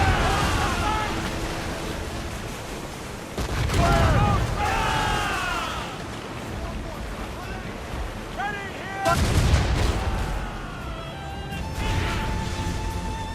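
Ship cannons firing in the video game Assassin's Creed Rogue during a naval battle, heavy booming blasts in two clusters over rolling sea noise, with voices talking in between.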